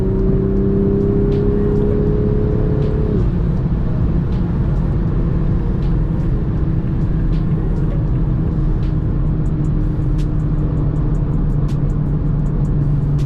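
A 2021 Toyota Supra engine with an aftermarket MST intake droning loudly and steadily, its pitch stepping down once then holding a low, throaty hum, close to the microphone.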